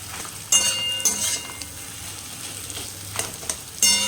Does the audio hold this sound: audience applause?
no